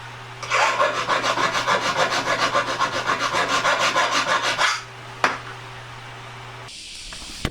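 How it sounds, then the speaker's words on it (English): A jeweller's file rasps around the inside of a ring mount held on a ring stick, making a loud run of rapid, rhythmic scraping strokes for several seconds before stopping, followed by a single sharp tap. "Just needs a load of filing now. I've got to file up the inside."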